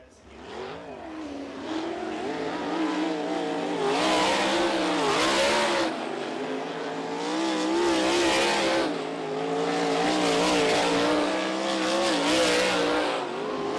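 USAC sprint cars throttle around behind a Toyota pace truck on the Ocala Speedway dirt front straightaway, engines revving hard in repeated loud surges as cars pass close, their rasping harmonics rising and falling.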